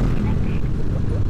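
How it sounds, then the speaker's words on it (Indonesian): A motorcycle's engine and exhaust during a ride toward Puncak, heard as a steady, loud, low rumble mixed with wind buffeting throughout. "ini suara sekitar ya, suara mesinnya lah"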